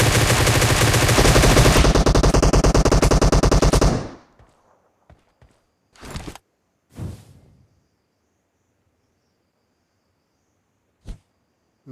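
Rapid automatic cover fire in the mobile battle royale game BGMI, a dense continuous burst for about four seconds followed by a few scattered single shots and short bursts amid near silence.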